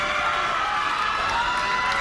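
Sustained roar of a large crowd cheering at a live wrestling show in Miami, dense and steady with no individual voices standing out.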